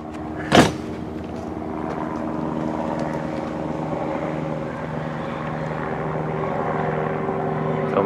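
A helicopter approaches for a flyover, giving a steady, moderately distant rotor drone that grows slowly louder, with one sharp, brief knock near the start.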